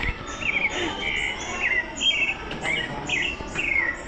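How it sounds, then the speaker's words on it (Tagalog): Birds chirp in repeated short, bright calls at a steady pace somewhere outdoors in Manila, moderately close and clear over a soft background hiss, with no talking. "Ibon."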